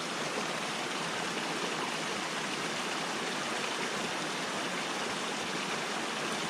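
Steady rushing water of a flowing creek, a constant broadband wash with no pauses, fairly close and without voices.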